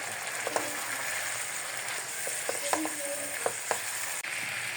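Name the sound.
cabbage and chili sauce frying in a pan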